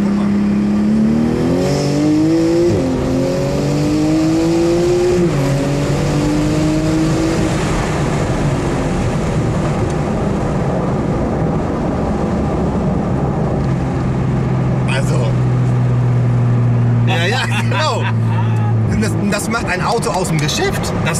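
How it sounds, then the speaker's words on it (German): Porsche GT2 RS with its stock exhaust, a loud engine drone that rises and falls steadily through a run, with brief revs near the end, heard from inside the car under conversation. "Nee, ist der Auspuff."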